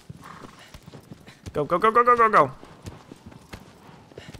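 Horse hooves clop in the video game Shadow of the Colossus. A loud rhythmic run of hoofbeats surges in the middle, with faint scattered steps before and after, and a voice calls out over them.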